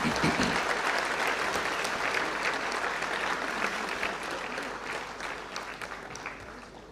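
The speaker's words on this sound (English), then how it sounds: "let's give a huge round of applause for all of them." A large audience at a semiconductor design roadshow event in Bangalore gives a sustained round of applause, dense steady clapping that holds loud throughout and slowly tapers toward the end, with no speech over it.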